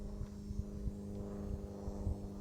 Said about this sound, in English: Got a plane up there. It's way up there though.